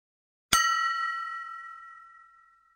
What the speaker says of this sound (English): On hitting the glass with a little more force, the glass made a louder sound